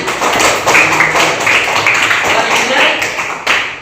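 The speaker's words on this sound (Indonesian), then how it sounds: "Oke, betul, tepuk tangan." Classroom applause from students after a pupil's summary in an Indonesian Islamic teacher-training lesson, a dense, loud, steady wash of many hands clapping for the whole stretch, with a few voices mixed in.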